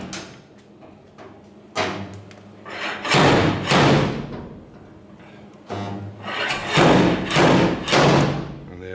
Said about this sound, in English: So you got a slide hammer, you make a small spot weld,